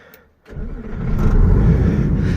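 After a short quiet moment, a farm vehicle's engine cranks and catches, then settles into a loud, close, steady running rumble, ready to drive across a corn field.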